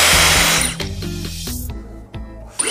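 A Dyson Supersonic hair dryer is switched on and whirs through several stepped speed changes, a loud, close motor whine that sounds more like a machine than a typical dryer, ending with a brief click.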